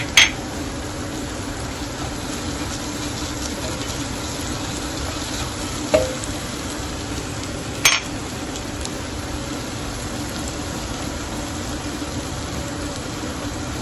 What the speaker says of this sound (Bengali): টমেটোটা প্রায় 3-4 মিনিট হলো কষানো হচ্ছে